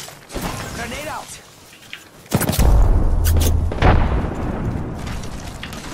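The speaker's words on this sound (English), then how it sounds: "Grenade out." A grenade goes off in a multiplayer shooter game, a sudden loud boom with a long low rumble that swells and lingers under ongoing gunfire and players' voices talking over it.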